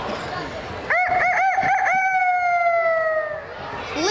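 Child at a county fair crowing contest imitates a rooster with a voice, a rising, warbling cock-a-doodle-doo that stretches into a long falling crow, heard clearly over a murmuring crowd.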